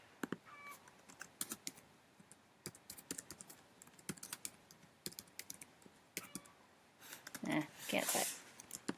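Typing on a computer keyboard, scattered quick clusters of light key clicks in irregular bursts, quiet and close, with a brief louder rustle near the end.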